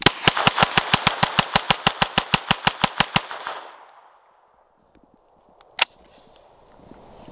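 A 50 caliber sniper rifle firing, heard as a rapid even string of about twenty sharp loud cracks over three seconds, then near silence and one more single bang.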